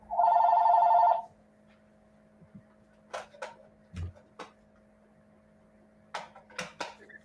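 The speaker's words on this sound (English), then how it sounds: "Oh God, why is my phone ringing?" A phone rings once with a loud electronic trill lasting about a second, followed by faint clicks and soft handling knocks in a quiet room with a low hum underneath.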